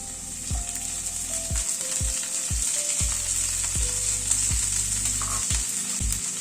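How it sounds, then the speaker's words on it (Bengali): Potatoes and small chopped beans frying in a pan, a steady close sizzle running throughout, broken by several sharp knocks of a spoon against the pan. "আলুটাকে 1-2 মিনিট একটু ভেজে নেওয়ার পরে এখানে বিনস এরকম ছোট ছোট করে কেটে নিয়েছি, সেটা দিয়ে দিচ্ছি।"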